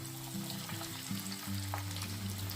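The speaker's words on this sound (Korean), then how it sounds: "새우튀김 들어갑니다" Large shrimp frying as tempura in hot oil, a constant close bubbling sizzle with a few faint clinks, no voices.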